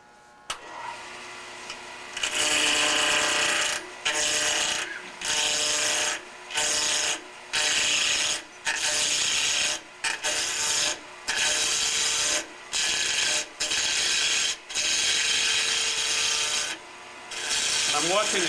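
A gouge cuts a maple ornament spinning on a wood lathe, producing loud, rough scraping bursts repeated in regular passes of about a second each, separated by short pauses, close and without talking.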